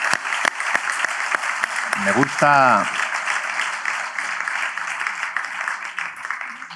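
An audience applauds at a book talk with an author, a dense patter of clapping running throughout while a voice briefly speaks over it.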